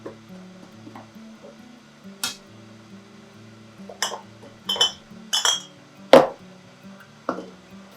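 Glass canning jars clink sharply several times while chicken is packed into them, bright separate taps spaced irregularly over a quiet background, with no talking.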